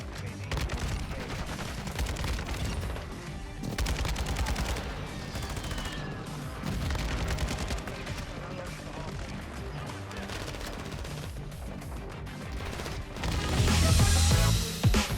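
Kastov 762 rifle fire in Call of Duty, dense sustained bursts and crackling shots over a busy battle backdrop with explosions, a heavy boom swelling near the end, faint voices underneath.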